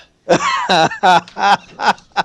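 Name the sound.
voice imitating a character coughing up blood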